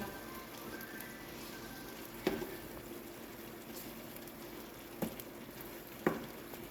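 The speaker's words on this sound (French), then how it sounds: "On va laisser cuire pendant quelques temps." Tomato purée sauce simmering in a pot gives a faint, steady bubbling sizzle throughout, broken by a few brief louder clinks or stirs.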